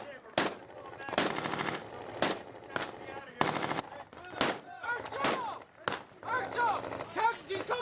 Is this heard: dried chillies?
no